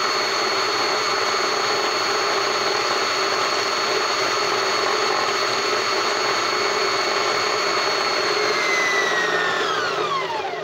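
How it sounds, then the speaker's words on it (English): A sewing machine winding a bobbin, a steady, close motor whir with a high tonal whine that holds level and then drops away as the winding stops near the end. "That's how I spin the bottom."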